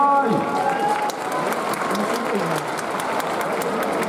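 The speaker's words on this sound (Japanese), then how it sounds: "皆さんどうぞ大きな拍手でお迎えください。" Stadium crowd applauding at a baseball first-pitch ceremony in Japan, a loud, dense, steady wash of clapping filling the whole stretch, with an announcer's voice briefly over the start.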